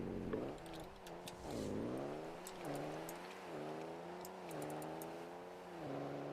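A concept car's engine in a racing video game revs through repeated climbing gear pulls, each rising whine dropping back before climbing again, steady and moderately loud with no talk.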